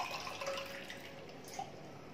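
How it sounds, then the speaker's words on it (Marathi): A glass of water poured into a cooked and cooled mango mixture makes a soft, faint liquid trickle with light splashes at low level. "एक ग्लास पाणी घातलंय मी,"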